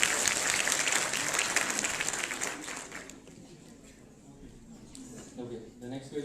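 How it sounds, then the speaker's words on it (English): Students in a hall at an anti-drug awareness quiz clap for a team's correct answer, a loud full round of applause that fades out midway, followed by someone speaking. "A huge round of applause. I will request all students to clap for them as well."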